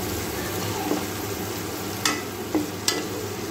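Onions fry in a pan over a medium flame, a constant soft sizzle with a few brief scraping stir clicks and taps, fairly quiet, with no talk.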